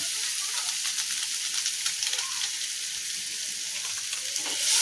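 Spices frying for a Bengali mutton curry, with ginger paste, turmeric and Kashmiri chilli powder in the pan: a loud, steady, close hiss of sizzling oil with light stirring, swelling slightly at the end, no voices.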